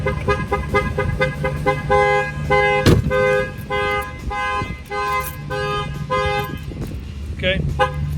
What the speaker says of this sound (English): I'm gonna go ahead and open the door, the alarm will fire off.